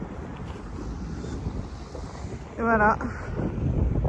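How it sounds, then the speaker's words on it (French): Strong freezing blizzard wind buffets the microphone during a storm in Swedish Lapland at about minus five degrees, a constant low roaring rush, with a short spoken phrase partway through. "Une espèce de blizzard gelé. Mais pourtant, il fait pas très froid là."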